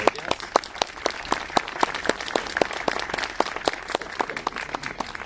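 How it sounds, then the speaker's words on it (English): An audience at a cherry blossom ceremony in Toronto applauds the guests, steady sustained clapping from a moderate crowd, fairly close and loud throughout, no talk. "A round of applause for our guests."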